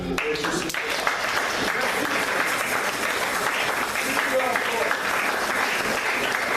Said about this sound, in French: Ensemble nous acclamons.